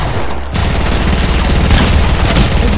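Rapid gunfire in the video game Fortnite, a loud, dense burst of continuous shots and impacts that fills the whole moment after a brief quieter start.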